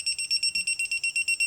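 A small torque wrench beeps rapidly during work on a Mercedes R129 valve cover, about a dozen short, evenly spaced high-pitched pulses, clear and close.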